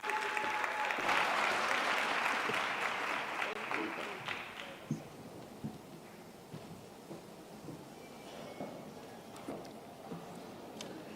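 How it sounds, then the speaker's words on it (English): Conference audience applause at a women's business event bursts out in a dense wash, then fades over a few seconds into scattered claps and quiet room noise as someone walks up to the stage. "Round of applause, everyone."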